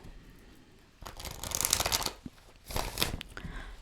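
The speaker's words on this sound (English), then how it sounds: "Let's give it one more shuffle." A deck of tarot cards is shuffled in two quick bursts of riffling and shuffling, close by, with a short pause between them.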